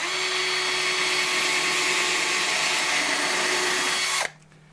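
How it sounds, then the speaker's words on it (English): A power drill bores a hole in scrap wood for a simple birdhouse, a loud steady whir held for about four seconds before it cuts off abruptly. "And I'm going to drill the next hole."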